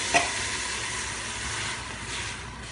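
Sautéed vegetables deglazed with white wine for osso bucco let out a sharp burst, then a steady hissing sizzle that holds close and even, with no voice over it.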